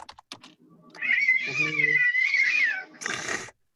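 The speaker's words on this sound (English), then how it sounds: "are you playing cat sounds for us?" Cat meows played back as a sound effect during a tabletop role-playing session, a few sharp clicks and then a long, loud, drawn-out meow alone, followed by a short burst of noise.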